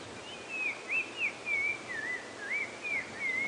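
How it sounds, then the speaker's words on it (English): A bird sings repeatedly during a morning safari drive at Djuma Game Reserve, its clear whistled phrases rising and falling in a steady series of short notes over quiet open-air background hiss. "Oh, we can hear that mystery bird still singing away."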